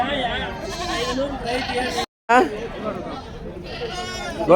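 Sheep and goats bleating at a weekly Tuesday livestock market in Kadiri, with repeated close, loud bleats rising over a background of crowd chatter and people talking.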